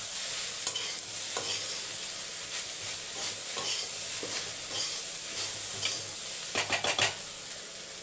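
Vegetables roast in a pan on a low flame while a utensil stirs them, giving repeated scraping strokes and soft clinks over a steady background sizzle, close and moderately loud, with a cluster of quick scrapes near the end.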